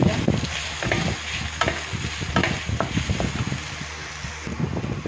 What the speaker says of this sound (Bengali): দিয়ে এবারে আমি সব একসঙ্গে ভেজে নেব